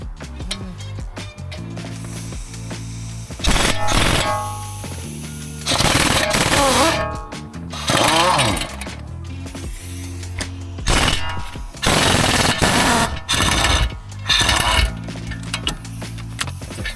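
Ratcheting clicks from a 15mm socket on the wheel bearing bolts of a Jeep Grand Cherokee come in loud, close bursts separated by short pauses, with faint background noise between them.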